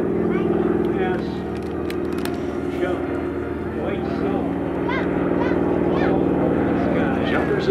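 Propeller aircraft at the EAA AirVenture 2024 air show, a World War II–era plane flying among a mass of other aircraft; a loud, steady engine drone fills the whole stretch with a narrator talking over it.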